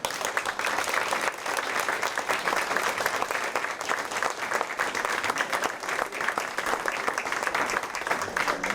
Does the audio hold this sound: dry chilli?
no